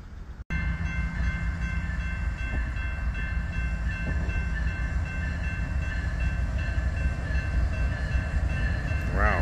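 A freight train rolls steadily past for several seconds, a continuous rumble and wheel noise with a sustained horn-like tone throughout, fairly close and even in level.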